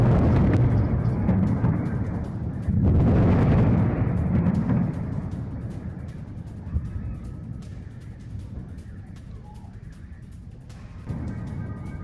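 Booming blasts from US missile strikes on residential and military sites in Tabriz, Iran, a heavy rumble rising in two loud surges, then fading to a quieter distant roar with scattered crackles, no voices.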